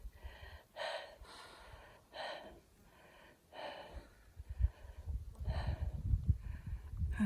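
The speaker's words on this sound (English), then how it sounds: "I'm going to leave the heavy breathing in because I don't want you to think that this hike was easy." Heavy, rhythmic breathing from a hiker climbing toward a summit past snowdrifts on a mountain trail, with close gasping breaths in regular bursts and louder footsteps and rustling building underneath toward the end.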